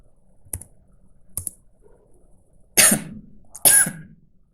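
A few sparse keystrokes on a computer keyboard while typing a command in the command prompt, then two louder coughs close by.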